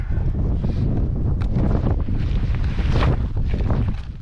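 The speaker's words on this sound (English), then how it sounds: "You probably can't even hear me because it's fucking so windy." Strong mountain wind batters the microphone during a splitboard outing, producing a continuous heavy roaring rumble with gusty surges throughout.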